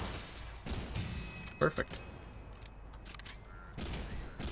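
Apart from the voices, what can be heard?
gunfire in the video game Synthetik 2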